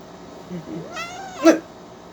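A young kitten gives an angry meow, a rising and falling cry followed by a sharper, louder yowl near the end, close by and alone.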